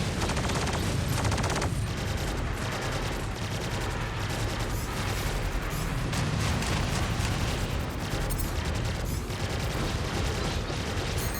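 Ship weapons in the space combat game Star Citizen Arena Commander fire in a dense, unbroken barrage of loud blasts and booms that continues throughout.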